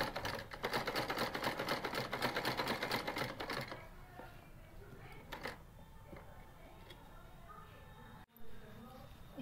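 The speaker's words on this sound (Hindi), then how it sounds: "बिल्कुल बुकरम के किनारे किनारे पे हमने सिलाई लगानी है" A sewing machine stitches along the edge of buckram with a fast, steady needle chatter for about four seconds. It then falls quiet to a few faint taps and handling sounds while a voice speaks softly.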